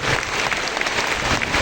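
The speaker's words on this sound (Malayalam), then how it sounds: "ഇവിടെ ഇരിക്കുന്ന ഇന്നത്തെ ഈ എക്സലൻസ് അവാർഡിന് അർഹരായ കുട്ടികളുടെ മാതാപിതാക്കൾക്ക് ഒരു കയ്യടി കൊടുക്കണം" Audience at a school excellence award ceremony applauding the parents of the award winners. Dense, steady clapping from many hands fills the whole stretch, fairly loud and close.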